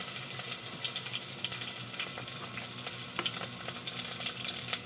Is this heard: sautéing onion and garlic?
yes